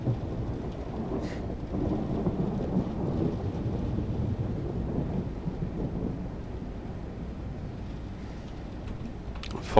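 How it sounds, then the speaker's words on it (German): Rolling thunder rumbles through steady heavy rain during a rainstorm in Train Sim World 4, aboard a DB Fernverkehr BR 146.5 electric locomotive, a continuous low roar filling the whole stretch with no talk. "Und da ist der Donner."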